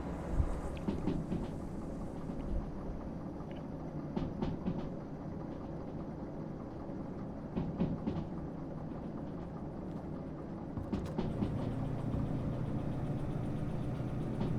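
A train locomotive engine in Derail Valley rumbles steadily as it rolls, with scattered clanks and rattles over the drone and a slight rise in heavier roar toward the end.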